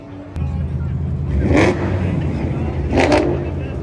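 A BMW M240 at a drag strip, its engine droning steadily while two louder broadband surges rise and fade. Voices talk over the engine noise.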